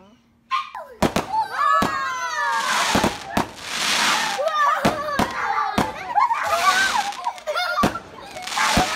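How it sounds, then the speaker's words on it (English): Fireworks set off outdoors near a house give a string of sharp, loud cracks and bangs at irregular intervals, with people talking and calling out between them. "Someone's letting fireworks off."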